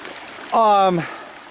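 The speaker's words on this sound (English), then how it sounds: "This creek is probably here naturally, but obviously its course has been modified." Steady, soft rushing of a winter creek in an Oregon arboretum runs throughout; its course has been modified by people. A voice speaks briefly over it near the middle.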